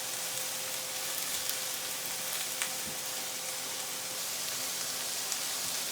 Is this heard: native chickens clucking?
no